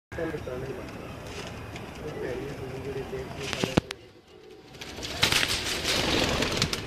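Blue kamagar pigeons on a rooftop coo softly amid steady outdoor noise, with a few sharp clicks, a brief lull and a burst of fluttering crackle later, while people talk nearby.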